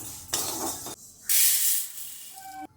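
Moong dal frying in a hot pan for oats khichdi, heard as separate bursts of loud hissing sizzle broken by short quiet gaps, close by, with no voices.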